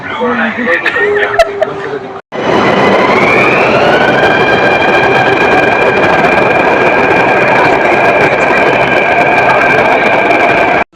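A fully automatic, driverless Delhi Metro Pink Line train runs with a loud, steady rumble from inside the car and a rising electric motor whine that settles into a constant tone, after a couple of seconds of voices and chatter.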